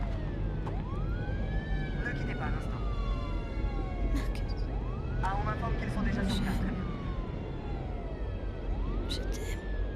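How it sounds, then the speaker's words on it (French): An ambulance siren wails in a French-dubbed action and horror film, its loud, rising and falling sweeps repeating every few seconds over dense background noise and voices. "mais l'ambulance est déjà arrivée"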